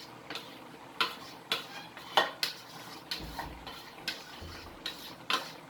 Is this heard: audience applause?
no